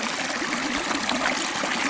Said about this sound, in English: there's a little bit of a tiny waterfall right here